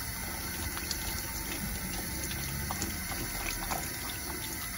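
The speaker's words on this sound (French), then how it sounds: "Je vais bien me rincer les mains." Tap water runs steadily into a sink as hands are rinsed, a constant soft hiss and splash with small irregular drips, close and fairly quiet, with no talking.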